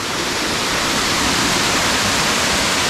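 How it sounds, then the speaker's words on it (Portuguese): Cachoeira Achada waterfall in Chapada dos Veadeiros, a loud, steady, broadband roar of falling water heard close, with no talking. "Então essa daqui foi a Cachoeira Achada."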